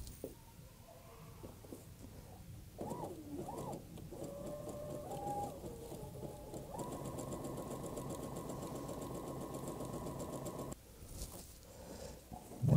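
A sewing machine stitches burlap in zigzag, starting with a few short whirring bursts, then running in a long steady mechanical hum before stopping abruptly, moderately quiet and close.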